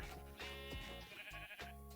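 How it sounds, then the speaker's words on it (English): A flock of sheep bleats in a video game, overlapping wavering bleats packed into a couple of seconds, loud and close with no talk. "just gained like a crowd of sheep."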